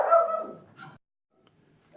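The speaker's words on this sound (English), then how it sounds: "No, all the dogs have decided to bark." Dogs bark nearby in a couple of loud, rough barks followed by a softer yelp, then a pause of near silence before another bark begins at the end.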